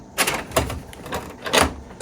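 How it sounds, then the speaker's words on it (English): A paper tray slides back into a Lexmark MS810 laser printer, giving a few short plastic clunks and scrapes close by, spaced unevenly over two seconds with no talking. "you're going to put the paper back into the tray"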